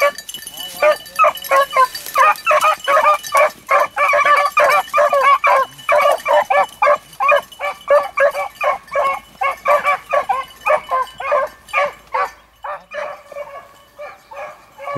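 Beagles bark and yip almost continuously in overlapping, high-pitched bursts at close range, a chaotic chorus with a few whimpers, while someone talks intermittently among them.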